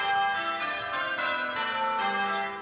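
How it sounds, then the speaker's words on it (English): Church bells ring out in a British town, a series of resonant bell strikes with long overlapping hum that hangs between peals, clear and moderately loud. "the joyful sound of church bells will ring for the King"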